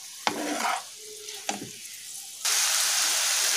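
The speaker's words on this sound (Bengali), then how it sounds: "এবার এটা আমরা আরও 2 মিনিট ভালো করে ভেজে নেব, যাতে নুন আর চিনিটা ভালোভাবে মিক্সড হয়ে যায়।" Fried rice with salt and sugar sizzles in a hot pan, with two sharp clanks of a spatula stirring, then a loud, steady frying hiss takes over.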